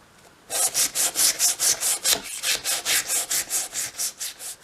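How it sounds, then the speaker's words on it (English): Rhythmic back-and-forth rasping of sandpaper on wooden dolls house frames, about twenty quick even strokes, close and clear with no talking. "so the sanding is all now done"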